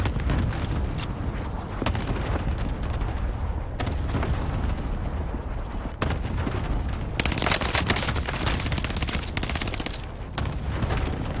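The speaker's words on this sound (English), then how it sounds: "Here comes the airstrike." Airstrike in a video game: dense, loud bursts of gunfire and booming explosions rolling continuously, heavy and close, with a sharp surge of blasts partway through and no speech.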